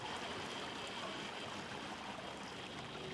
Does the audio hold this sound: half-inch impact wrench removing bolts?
no